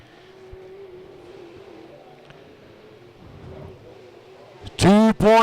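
Sport modified race cars roar around the Mountain Motor Speedway oval during a feature race, a steady distant engine drone that swells into loud, close pass-bys at the end, under a fast announcer commentary.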